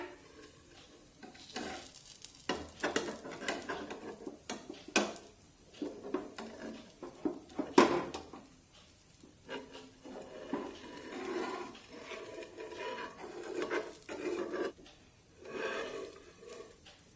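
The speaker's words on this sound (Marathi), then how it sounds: "सुरुवातीला डोशाच्या या ज्या कडा आहेत त्या कडा लूज करून घेऊया" A spatula scrapes and loosens the edges of a millet flour dosa on a hot pan, giving repeated sharp scraping strokes and clinks over a light sizzle, close up with no talk.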